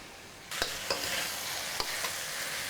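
Lemongrass chicken sizzles in a frying pan as it is stirred. The frying noise starts suddenly and continues, broken by a few sharp scraping strokes of the spatula, with no talking.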